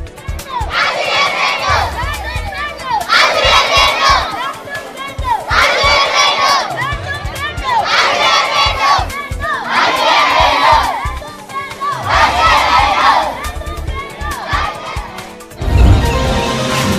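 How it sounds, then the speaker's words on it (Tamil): A large crowd of government school students in Tiruvallur shouts in protest over a missing science teacher, with loud rhythmic chanted bursts repeating every couple of seconds and a sharper shout near the end. "ஆசிரியர் இல்லை என்று வகுப்புகளை புறக்கணித்து மாணவ மாணவிகள் போராட்டத்தில் ஈடுபட்டனர்"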